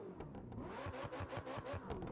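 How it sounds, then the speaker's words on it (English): A car engine in The Crew 2 closed beta cranks to life and revs in quick rhythmic pulses, loud and close, with no talking. "As you can see, you can also start up the engine."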